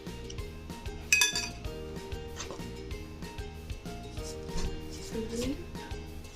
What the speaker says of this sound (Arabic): هنقلب في اتجاه واحد علشان الهواء ما يخرجش بره